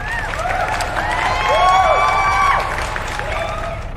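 Stream donation alert playing an applause and cheering sound effect, a crowd clapping and whooping loudly for about four seconds with bright whistling tones layered over it.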